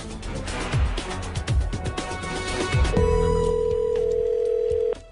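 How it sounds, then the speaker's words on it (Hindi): Telephone ringing amid a comedy film scene, a sustained electronic ring tone emerging after earlier thuds and voices, loud and continuous for a couple of seconds before cutting off. "फोन बज रहा है मैन।"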